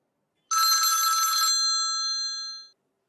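A telephone bell rings once in a single sustained burst of about two seconds, loud and alone, with a ringing tail fading out in a quiet room.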